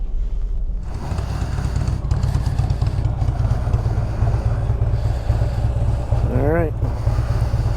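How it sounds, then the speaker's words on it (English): A 2016 Harley-Davidson Road Glide Special motorcycle engine runs with a steady, loud low rumble throughout, while someone talks over it. "let's take this 2016 Road Glide Special for a ride."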